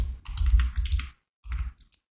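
Keys clattering on a computer keyboard as text is typed, a quick close burst of clicks followed by a brief pause and a shorter second flurry.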